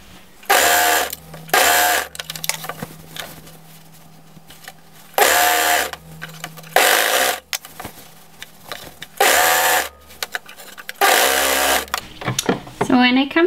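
A home sewing machine runs a raglan sleeve seam in several short bursts of rapid whirring, stopping and starting, with a person talking in the gaps.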